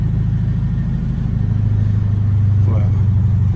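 A modified 2014 Scion FR-S, also sold as the Toyota 86, holds a deep, steady engine drone up close, then gives a short rising rev near the end.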